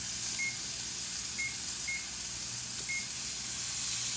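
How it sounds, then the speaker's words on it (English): A kitchen appliance timer gives several short, faint electronic beeps at irregular intervals against a steady hiss of room noise. "So I'm going to set this again for 2 minutes. Hit the timer button again."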